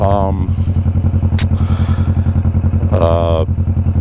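Kawasaki Vulcan S 650 motorcycle engine pulsing steadily while riding, a close, loud, rhythmic thrum with the rider talking over it in short bursts.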